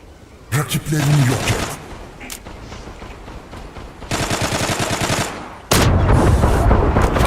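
Pistol gunfire in a Zula match, with rapid bursts of shots in several loud volleys separated by brief gaps, the final burst running dense and sustained to the end.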